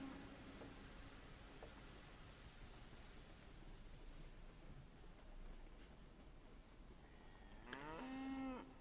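Cattle moo in the Railroads Online railway game. Soft ambient hiss leads up to one clear, drawn-out moo near the end.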